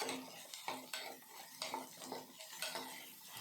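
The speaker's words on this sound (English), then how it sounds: "Fry them together." Chopped carrot, potato and beetroot frying in a pan while a spoon stirs them, rhythmic scraping and clinking strokes over a low sizzle, quiet and close, no talk.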